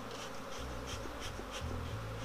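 Honey bees buzz at a beehive, a faint, steady drone with a soft pulsing rise and fall and no voices.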